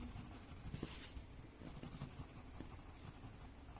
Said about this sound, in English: Adding some heavy graphite on the edges.